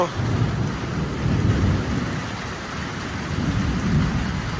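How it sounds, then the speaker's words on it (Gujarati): Heavy rain pours steadily with low rolling thunder rumbling underneath, swelling and easing in waves, loud and close throughout. "હજુ ઉનાળો તો આવ્યો નહીં વરસાદ આવી ગયો"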